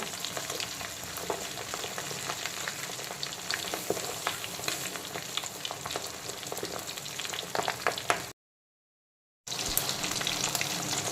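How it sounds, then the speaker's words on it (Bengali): Pabda fish fry in a pan with a steady, close, crackling sizzle that continues throughout, broken by a brief silent gap before the hiss resumes. "পাবদা মাছের একটা দিক খুব ভালো মতো ভাজা হয়ে গেলে পাবদা মাছগুলোকে আমি উল্টো করে দেব"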